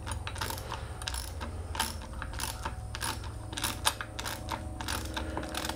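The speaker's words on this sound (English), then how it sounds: "you got a quarter inch ratchet" A quarter-inch ratchet tightens felling spikes on a Stihl MS 261 chainsaw, giving quick bursts of sharp clicking at close range in an irregular rhythm.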